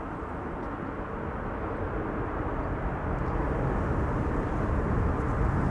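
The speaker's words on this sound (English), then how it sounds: "Reversers also on board. You can hear them. They're being applied right now." An airliner landing at Amsterdam Schiphol applies its thrust reversers, a distant broadband roar that slowly grows louder and heavier.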